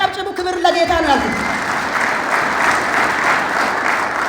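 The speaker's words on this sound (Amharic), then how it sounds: "ኧረ አጨብጭቡ።" Church congregation clapping, loud and sustained across the hall, with a voice heard over it at the start before the clapping carries on alone.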